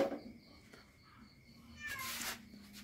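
A cat meows faintly at night in a village kitchen during cooking, short soft calls under quiet background noise, with low human talk and a brief rustle near the end.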